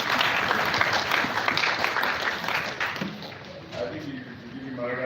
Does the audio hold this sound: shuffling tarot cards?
no